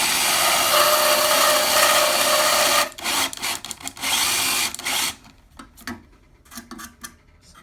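A power reamer grinds into the glenoid of a sawbone shoulder model. A continuous whirring drone gives way to shorter, stop-start bursts of grinding.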